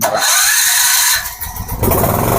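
A gas-powered generator's electric self-starter cranks with a short buzzing whir, the engine catches, and settles into a loud, steady rumbling run.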